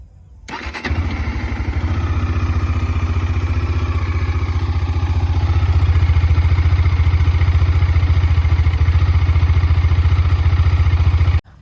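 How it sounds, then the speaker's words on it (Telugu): A Bajaj Dominar motorcycle, ridden out after three months in storage, fires up and runs with a loud, steady engine and exhaust note that holds at close range for about ten seconds, with no voices over it. "ఎగ్జాస్ట్ సౌండ్ అయితేనండి."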